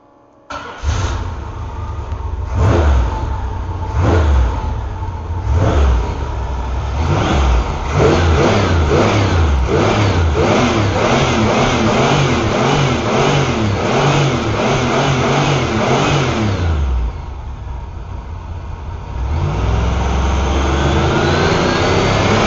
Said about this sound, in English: I'm going to fire it up right now and rev it a couple times